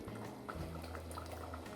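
Thick palak gravy of spinach and potato bubbles in a pan on the stove, a soft continuous simmer with small pops, close and steady with no voices.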